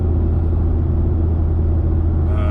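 A car engine fitted with a single Parker Performance 3-inch exhaust, an intercooler and a blow-off valve rumbles steadily and loudly up close, a deep continuous drone.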